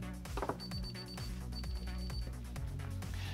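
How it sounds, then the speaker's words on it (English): A DSC Neo alarm panel keypad sounds its buzzer tone alone, a thin, steady electronic buzz that repeats in two bursts over a low background hum. "You will hear a buzzer."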